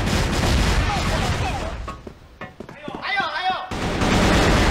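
Gunfire in a CrossFire pro team video game match, loud, dense bursts of shots that drop away briefly mid-clip, then resume in full under excited commentator chatter.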